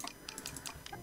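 Quick, light clicking keystrokes on a new computer keyboard, a faint, fast, uneven patter of taps up close in a quiet room.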